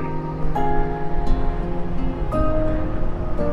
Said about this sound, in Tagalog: Tapos yung hampas ng mga alon lang ang maririnig.